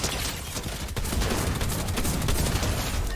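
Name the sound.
gunfire in the video game Fortnite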